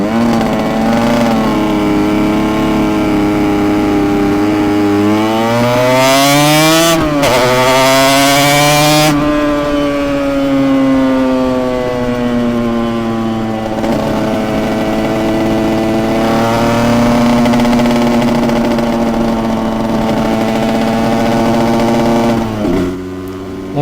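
A 1990s Yamaha TZR two-stroke motorcycle engine runs loud and close, idling with a raspy buzz before its pitch climbs and falls through several throttle blips, then settling back to a steady idle.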